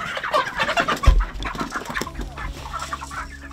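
Chickens cluck busily in a Jamaican yard, a dense chatter of clucks and squawks that stays close and steady, with a low thump partway through.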